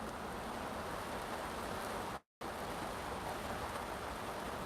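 Steady rain falls outdoors as a continuous hiss, even and moderately faint, with one brief dropout partway through and no voices.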